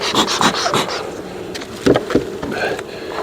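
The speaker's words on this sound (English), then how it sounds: "I can hear bees up in the" Honey bees buzz up in the super of a kitchen hive, a steady close insect drone with a few brief knocks and shuffles over it.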